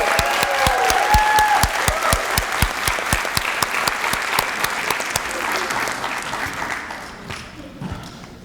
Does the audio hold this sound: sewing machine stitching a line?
no